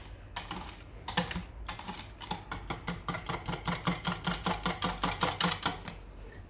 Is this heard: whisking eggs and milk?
yes